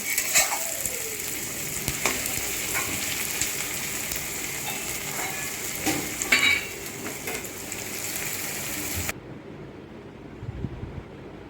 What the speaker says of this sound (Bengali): যতক্ষণ না পেঁয়াজ থেকে লালচে রং হচ্ছে ততক্ষণ পেঁয়াজটাকে ভেজে নিতে থাকবো